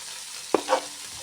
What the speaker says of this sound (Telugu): యాడ్ చేసుకొని మంచిగా ఫ్రై చేసుకుందాం